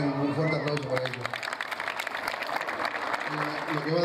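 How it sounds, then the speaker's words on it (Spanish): Audience applause at the opening of a new volunteer fire station in Lonquimay, La Pampa, a crowd clapping steadily for a few seconds as a speaker's voice fades out and then returns. "me gustaría que les den un fuerte aplauso para ellos"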